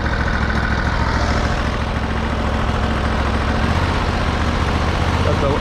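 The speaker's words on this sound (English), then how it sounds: "Let the engine warm up a little bit." Sawmill engine idling as it warms up before sawing beams, a steady loud low rumble running unbroken throughout.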